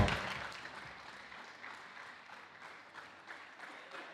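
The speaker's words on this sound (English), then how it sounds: "A round of applause" A crowd applauds steadily, a dense patter of clapping that swells at the start and then carries on evenly at moderate distance.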